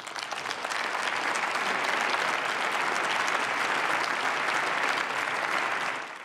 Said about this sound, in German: Und er bekommt für seine Rede Applaus, nicht nur von seiner eigenen Fraktion